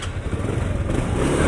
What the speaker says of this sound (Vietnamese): Máy chạy rất là êm luôn.